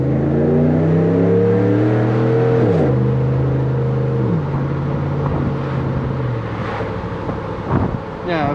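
Dodge Ram with a 5.7 V8 Hemi accelerating at night, its engine pitch climbing through several gear changes under wind noise, heard from inside the cab.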